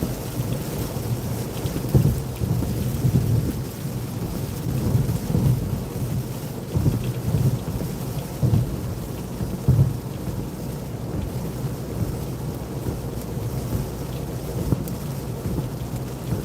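Thunderstorm seen from a storm-chasing vehicle: steady heavy rain drums on the surface throughout, with low rumbles of thunder swelling and fading in the background.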